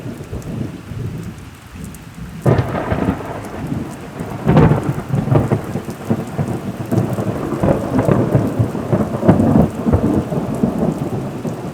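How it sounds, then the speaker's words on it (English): Heavy rain drums continuously on surfaces during a nighttime thunderstorm, with rumbling thunder rising after a quieter start and rolling on in waves; loud, close, no speech. "We had some lovely thunderstorm tonight."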